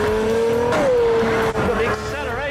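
A car accelerates hard during a Top Gear economy race, its engine note rising sharply, with a brief squeal and a voice speaking over the roar.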